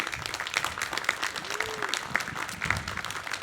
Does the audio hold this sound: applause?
yes